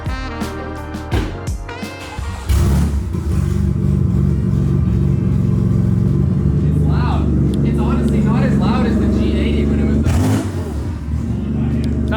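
A car with a flame tune and open dump exhaust, close and loud, with the engine catching and settling into a rough, rumbling idle and revving, while people talk over it.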